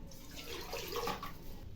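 Water pours and splashes steadily into a cooker for a moment, a soft liquid gush at close range.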